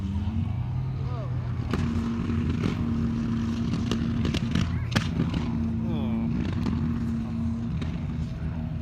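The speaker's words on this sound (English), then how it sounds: "As you can see, they can get up to real high speed for a tracked vehicle." A British CVRT tracked military vehicle, a Gulf War veteran, races past at high speed at a museum parade, its loud steady engine roar and track rumble continuous throughout with a whining pitch shift.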